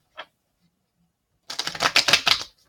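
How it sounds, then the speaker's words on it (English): Sacred Traveler Oracle cards being shuffled: one faint early flick, then a second of quiet, then a close, rapid burst of crisp card riffling. "we're going to shuffle the Sacred Traveler Oracle"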